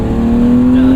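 A 1998 BMW M3 E36 with about 250,000 miles revs hard through a 1-2 gearshift, a loud close engine note holding a steady rising tone for a second.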